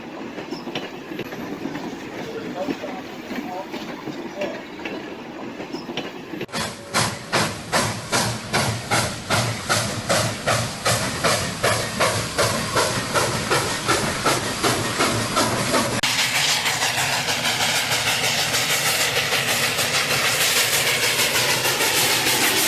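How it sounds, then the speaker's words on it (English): Steam locomotive 3715 pulls out with a shuttle train hauling a private car on the Elkvalley line, its exhaust chuffs rising in a rapid, regular rhythm over loud hissing steam, close and continuous. "3715 is about to depart out of Elkvalley"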